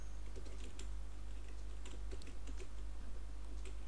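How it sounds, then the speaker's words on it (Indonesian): Fast typing on a computer keyboard during a Typing Master lesson, a quick run of light key clicks over a steady low hum, with no talk. "Jadi semakin cepat Anda mengetik, nanti akan semakin cepat selesai ini."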